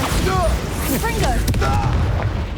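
An explosive Confringo spell blast in the Hogwarts Legacy video game, a deep booming burst with dense rumble running through the whole stretch, heard under excited game voices and shouted dialogue.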